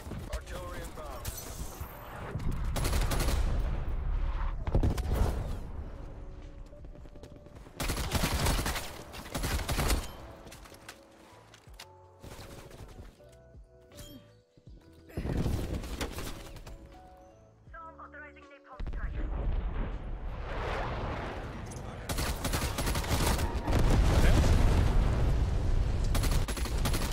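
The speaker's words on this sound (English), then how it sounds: "Hostile artillery targeting active." Artillery strike explosions in Call of Duty Black Ops Cold War land in a chaotic firefight, with heavy booming blasts and bursts of gunfire, loud and intermittent, while voices talk throughout.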